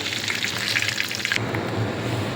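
Tapioca being stirred in a pan of frying fish head curry, a steady crackling sizzle with scraping that thins out partway through, close and alone.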